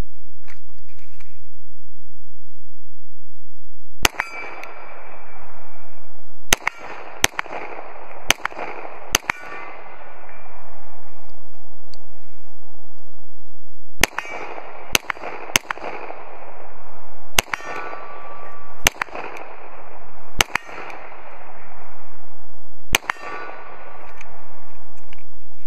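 Glock 34 Gen 4 pistol fired at targets 30 yards away outdoors in snow, sharp loud shots in irregular bursts with short pauses and ringing decay after each, no talk.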